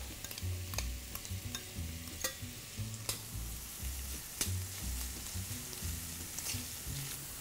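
Onions and carrots sizzling in hot oil in a pan, a steady frying hiss with occasional sharp clicks and low rumbling stirring, close by and fairly quiet, with no voices.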